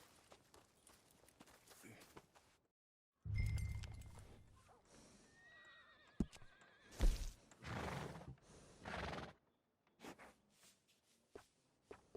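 A horse in the video game Red Dead Redemption 2 gives a loud neigh and snorts amid hoof steps and shuffling, with brief silent gaps and other game sounds around it.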